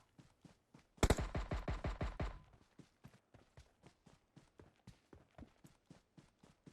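Rapid automatic gunfire in the PUBG Mobile video game, a loud burst of about a dozen closely spaced shots, then quieter regular footstep-like thuds that continue steadily.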